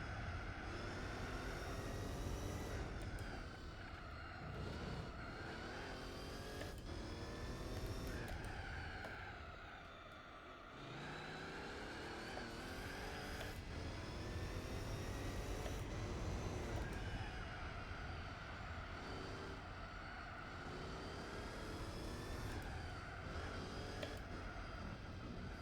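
Race car engines from Gran Turismo 4, including LMP prototypes, roar continuously and loudly with rising and falling revs as cars shift gears, with a brief dip in intensity midway.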